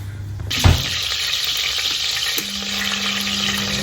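Butter and cumin hit hot oil for a tadka, a sudden loud sizzle that starts abruptly and holds as steady broadband frying hiss, with a brief clatter near the start and a low hum underneath.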